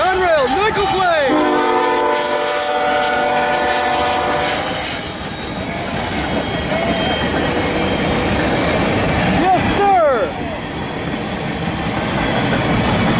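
Norfolk Southern freight train led by Conrail and Nickel Plate heritage locomotives sounds a loud multi-note horn in repeated blasts, near and strong, over rumbling wheels and clickety-clack, with excited shouting from onlookers.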